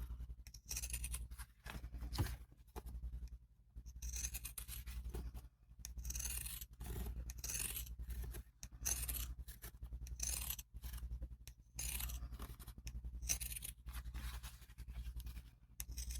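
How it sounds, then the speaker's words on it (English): Scissors snip notches into fabric during handbag sewing, producing a quick series of short, crisp cutting clicks up close over a low steady hum. "If you don't have pinking shears, just clip notches."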